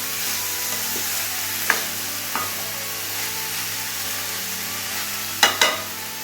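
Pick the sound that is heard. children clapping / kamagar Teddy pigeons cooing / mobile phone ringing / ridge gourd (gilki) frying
ridge gourd (gilki) frying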